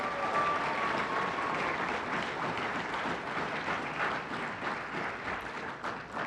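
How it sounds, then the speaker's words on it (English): A crowd at an environmental competition awards ceremony claps for two people, a sustained, even wash of applause that stays at a moderate level throughout. "So let's give Sarah and Putnam a round of applause."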